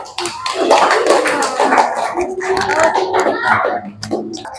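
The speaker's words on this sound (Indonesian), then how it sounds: "Oke, tepuk tangan." A fifth-grade class of children claps in applause after group presentations, a scattered burst of hand claps mixed with chatter and a voice.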